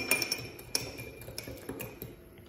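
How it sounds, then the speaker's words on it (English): Eggs are stirred with a utensil while cooking an egg and bacon roll, producing a quick run of light metallic clinks and taps against the dish, close and fairly quiet. "Give that a bit of a stir."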